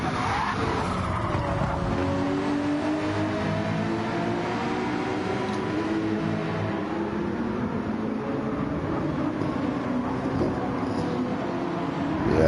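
McLaren and Porsche race cars dice closely at Brands Hatch, engines droning loudly and steadily with rising and falling pitch and some tyre noise, no voices.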